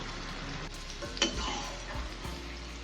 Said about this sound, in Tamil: குடமிளகா ரெண்டு நிமிஷத்துக்கு அப்படியே வதங்கட்டும்